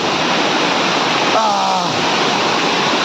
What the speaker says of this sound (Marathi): आता मी या वरच्या धबधब्यावरती पोचलोय आमचा गावातला म्हणजे वाडीतला धबधबा आहे